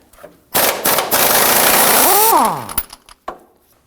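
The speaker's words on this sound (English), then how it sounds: "We're going to use our socket, our swivel, and our impact gun to loosen and remove this nut." An impact gun loosening a 21mm bumper nut through a socket and swivel on a 2015-2020 Ford F-150, one loud close burst of rapid hammering lasting about two seconds, then a few short clicks and rattles.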